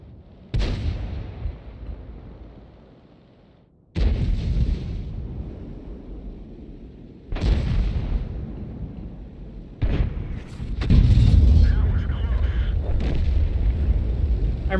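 Tank cannons firing in World of Tanks, four heavy booming shots spaced a few seconds apart, each a loud close blast trailing into a rumbling decay, the last followed by overlapping explosions and crackling debris.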